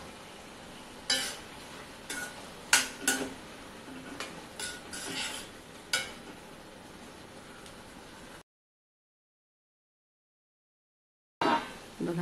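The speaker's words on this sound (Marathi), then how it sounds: "अधूनमधून परतवायचं आहे कारण खाली तो चिकटायला नको." Dudhi (bottle gourd) halva is stirred in a pan over low heat, a spoon scraping and knocking against the metal in irregular close strokes over soft sizzling, broken by a few seconds of silence.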